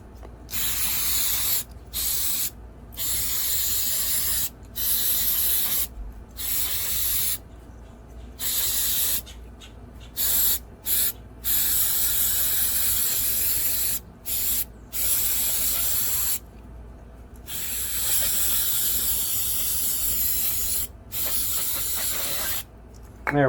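Bursts of hissing spray blast over a part being cleaned after it was dropped, with repeated short and long sprays separated by brief pauses, close and loud, no talking.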